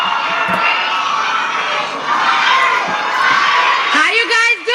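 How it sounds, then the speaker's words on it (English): Crowd cheering at an election rally, a broad roaring wash of voices with whoops and shouts that stays loud and steady, with a few sharper yells rising near the end. "It's probably a fake crowd."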